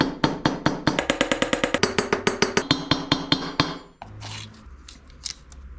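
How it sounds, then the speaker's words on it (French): A hammer taps repeatedly around paper gasket material laid on the cylinder of an old rusty Motobécane AG2 motorcycle engine, about two dozen sharp, close, evenly paced knocks for four seconds, then quieter handling noise. "Et avec ce marteau, je vais tapoter tout autour."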